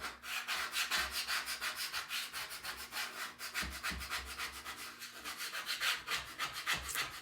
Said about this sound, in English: I'm just using this paste scraper to pull up the old paste